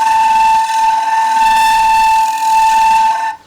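Shrill, steady high-pitched whistle from thin wooden stock spinning on a lathe as a square plate is turned down to about an eighth of an inch, loud and continuous for about three seconds before cutting off.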